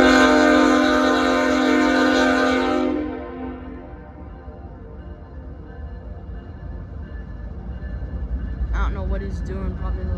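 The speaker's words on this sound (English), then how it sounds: "Locomotive coming." A locomotive approaches, its loud multi-tone horn blaring close for about three seconds before cutting off, then a heavy rumbling engine and rolling train noise continue with brief squeals near the end.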